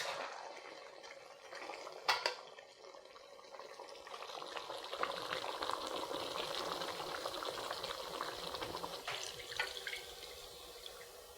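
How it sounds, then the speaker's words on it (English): Coconut milk pours into a pot of braising Indonesian chicken opor, a steady liquid rush and bubbling sizzle with a couple of brief clinks, close and fairly quiet. "Now let's add the coconut milk."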